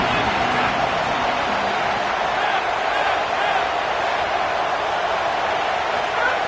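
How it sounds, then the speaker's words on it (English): Crowd noise from a college football video game swells as a loud, continuous stadium roar on third down, a dense wash of sound with no gaps. "Decibels rising as the crowd gets behind this defense on third down."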